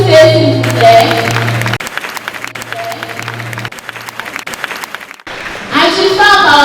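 Applause at a graduation ceremony of the Institution St Pierre de Formation, with dense clapping at the start, a quieter spell in the middle and a loud burst again near the end.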